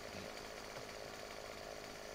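Chainsaw felling trees in Farming Simulator 2015, a steady buzzing engine whine held at constant pitch, fairly faint and continuous with no pauses.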